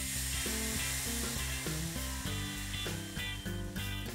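A burger cooks in butter in a cast iron pan, giving a steady close sizzle with a strong low hum and tonal whine running underneath, continuous and fairly loud, with no voices.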